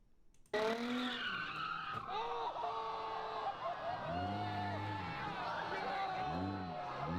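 A car skids in a crash during racing, its tires squealing in several rising and falling wails after a sudden loud onset, with engine noise and faint voices underneath.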